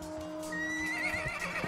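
A horse neighs in a full-cast radio drama as a general's mount panics, a loud shrill whinny rising and wavering over steady low background hum, with faint hoof clatter.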